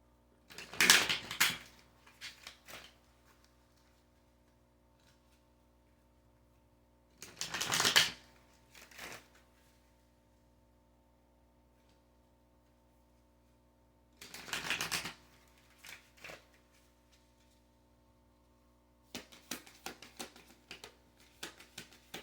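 Kali oracle cards being shuffled in four separate bursts of riffling and flicking, spaced by quiet pauses over a faint steady hum.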